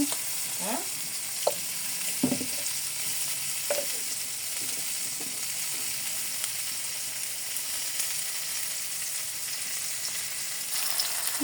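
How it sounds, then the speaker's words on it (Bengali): Onions, chilies, salt and turmeric frying in oil in a wok, a steady close sizzle with occasional spatula scrapes and clinks, no speech. "দিয়ে দিয়েছি পেঁয়াজ, মরিচ, লবণ, হলুদ। এগুলো একটু ভালো করে ভেজে নিতে হবে।"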